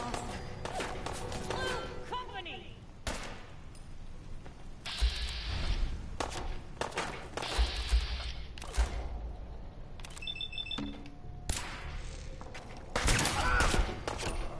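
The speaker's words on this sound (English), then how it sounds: "One good shot to the head is all it takes." Gunshots in Fallout 4 ring out as scattered sharp reports and a few quick volleys over continuous game ambience, with talking running throughout.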